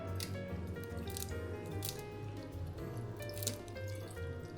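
Liquid seasonings, fish sauce, vinegar and soy sauce, drip and splash onto chicken wings in a bowl, with wet squishing and dripping sounds up close over a steady low background hum.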